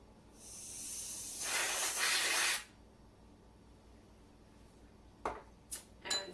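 Whipped cream sprayed from a can onto hot chocolate: a loud, close hissing spray lasting about two seconds, swelling in the middle, followed by quiet and a few short sharp spurts near the end.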